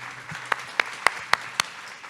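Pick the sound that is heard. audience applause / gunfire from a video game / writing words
audience applause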